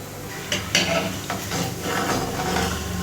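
Cabbage manchurian balls frying in hot oil in a home kitchen: a steady sizzle with a few sharp clinks of a spoon or ladle against the pan, close and fairly loud.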